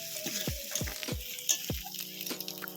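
Spices with chili powder fry in a pan for a desi chicken curry, a moderate sizzle punctuated by a series of low scraping strokes from stirring, close and steady.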